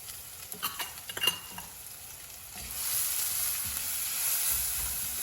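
Ginger, red pepper and garlic hit hot olive oil in a pan, a few spoon clatters and scrapes coming first, then the sizzle swells into a steady close hiss with no talk.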